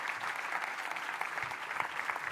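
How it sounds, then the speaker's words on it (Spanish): Applause from an audience at a human rights commission's annual report presentation, a steady, fairly faint patter of many hands clapping, heard on its own without talk. "Un fuerte aplauso para nuestra presidenta aquí."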